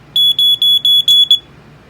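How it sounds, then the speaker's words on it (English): A home smoke alarm sounding when its test button is pressed, six loud, shrill beeps in quick succession, close by, then silence. "Here's your test button, which,"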